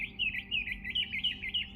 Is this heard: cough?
no